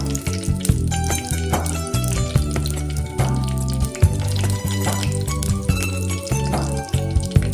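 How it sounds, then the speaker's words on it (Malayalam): Mustard seeds crackle and pop in hot oil for a rambutan pickle, with irregular sharp bursts and clinks repeating over a steady bubbling hiss throughout. "കടുക് പൊട്ടുന്നുണ്ട്."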